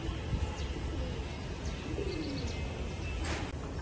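Giribaz pigeons coo in low, soft, rolling calls through a dense, steady background hum, with a few faint higher chirps from other birds scattered across the few seconds.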